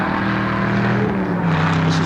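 A Mini Cooper S race car, 1969-era, races at Warwick Farm with a loud, steady engine drone that holds near throughout, while a race commentator talks over it.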